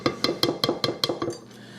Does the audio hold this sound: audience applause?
no